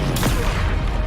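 A Confringo spell blast in Hogwarts Legacy bursts as a single loud, close explosive boom with a rumbling, noisy tail lasting about a second.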